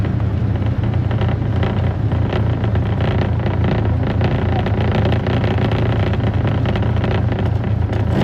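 A 1927 Dodge Brothers car drives along a rural road toward a concrete bridge, with a loud, continuous engine and road rumble mixed with heavy wind buffeting.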